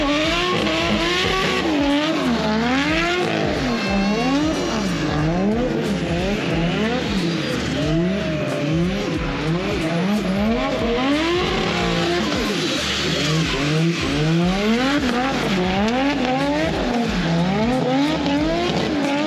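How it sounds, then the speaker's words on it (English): A turbocharged LS-powered red Nissan S13 drifts at a competition, its engine loud and continuous, revving up and down in sweeping waves, with tire squeal and skidding blended into the roar throughout. "his LS turbo powered Red S13"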